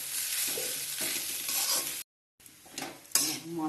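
Spices and potatoes fry in a pan while being stirred, producing close sizzling with scraping and clinks of utensil on metal, a short silent break, then renewed stirring and a sharp knock.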